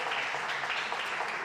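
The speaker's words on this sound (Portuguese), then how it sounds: "Dá já um aplauso para o Senhor, dá já um aplauso aí que Ele merece" Church congregation applauding during a sermon, a dense, continuous wash of many hands clapping at once, full and fairly loud, without spoken words over it.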